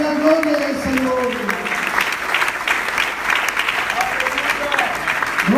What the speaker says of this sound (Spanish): Alguien que le dé un aplauso esta mañana a la gloria del Señor